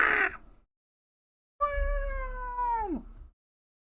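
A cat lets out one long, drawn-out meow that slides downward at the end, close and clear, after a short burst of other sound and a pause of silence.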